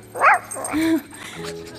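A pet dog yips and whimpers up close indoors: a sharp high yip, then a drawn-out whining whimper trailing into softer whines.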